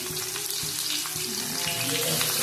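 Onions hit hot oil in a pan for chitranna, giving a dense, steady sizzle and crackle with faint ticks, close and continuous throughout.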